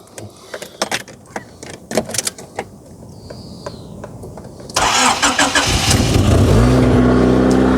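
A Rover 400 Tourer car engine cranks and catches after several clicks and rattles, then settles into a loud, steady idle that runs to the end.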